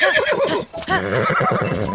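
A horse in the video game Zelda Breath of the Wild whinnies repeatedly and loudly, the neighs rising and falling in quick succession with faint hoof clops underneath and no talk.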